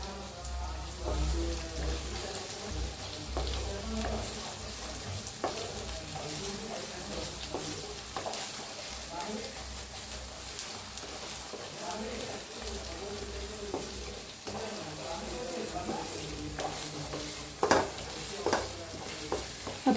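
Masala with cumin seeds being roasted in a pan for chole, a low, continuous crackling sizzle with scattered stirring scrapes, fairly faint and dense throughout.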